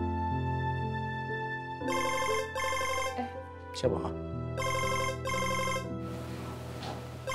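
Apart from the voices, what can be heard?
telephone ringing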